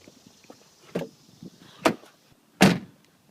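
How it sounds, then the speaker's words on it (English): The hood of a 2000 BMW E39 528i being unlatched and popped open, three separate sharp metallic clunks, close, spaced about a second apart, against near silence. "So popping the hood"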